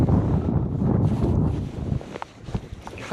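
Strong gusting wind on a river buffets the microphone in heavy low rumbles, easing off toward the end, where a few light knocks and rustles come through.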